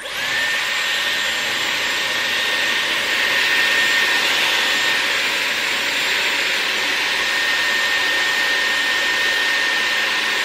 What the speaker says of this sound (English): and then turn on the air wrap